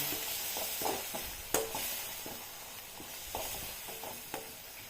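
Moringa leaves with salt are stirred in a pan, a soft low sizzle broken by light scraping strokes and one sharp clink, with no talking.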